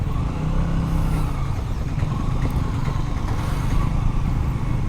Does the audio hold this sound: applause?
no